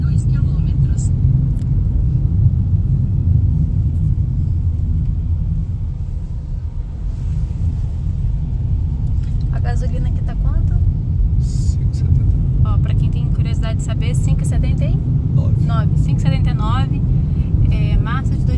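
A car pulling back onto a highway in Sergipe after refuelling at a roadside gas station, its engine a steady low rumble throughout, with faint road noise and a few brief higher tones near the end.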